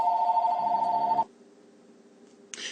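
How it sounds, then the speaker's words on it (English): A telephone bell rings loudly in a steady electronic trill for just over a second, then cuts off, leaving a quiet room tone with a brief burst near the end. "Sorry about the phone."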